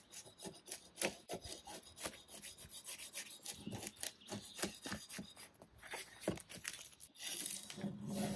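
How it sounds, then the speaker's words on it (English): A hand scraper strips old paint from a piece found in a garden shed, making dense, rapid rasping scrapes in quick uneven strokes, close up and fairly quiet, with no talking. "I basically removed as much as I could and I just used my scraper to finish it"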